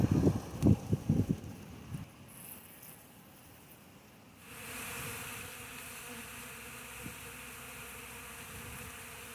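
Honeybees at a hive during a mild mid-winter check give off a steady, close buzzing hum, preceded by a few handling thumps and rustles.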